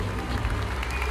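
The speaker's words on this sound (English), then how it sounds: "Oh, the crowd's buzzing" Crowd murmur fills a tabletop role-play scene, a dense steady buzz of many voices with a clapping-like texture, continuous and fairly loud throughout the short stretch.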